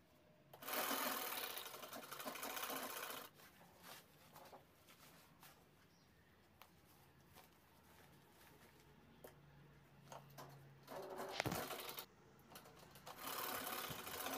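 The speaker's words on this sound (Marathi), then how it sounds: "दुसरी साईड अशाच पद्धतीने शिवून घेतोय आपण." A sewing machine stitches a tote bag in two steady whirring runs, each lasting a few seconds, with quiet handling sounds and pauses between them. A brief final burst of stitching comes at the end.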